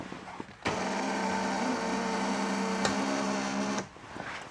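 An electric power seat motor from a parted-out vehicle, wired straight to a car battery, whirs steadily for about three seconds as the seat slides, stopping abruptly, with quiet handling noises before and after.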